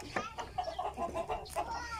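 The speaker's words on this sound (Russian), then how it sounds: "Ах, вы петухи!" Roosters in a garden plot give a string of short, agitated clucks and squawks close by, fairly quiet against a faint outdoor background.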